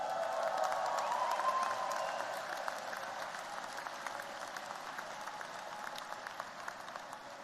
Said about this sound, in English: I'd like you to stand up and applaud and appreciate your parents and the support of your parents and your family